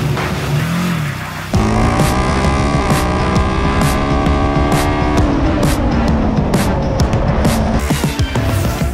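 A student-built Formula Student race car drives close by, its engine revving loudly with rising and falling pitch through gear changes.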